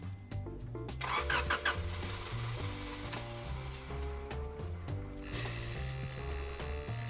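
A 1995 Honda Accord engine cranks over and over, a rhythmic starter churn that tries to catch, with the whine rising and falling in repeated pulses, close and fairly steady.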